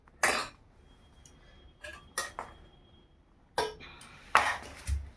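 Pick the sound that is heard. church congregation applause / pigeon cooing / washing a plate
washing a plate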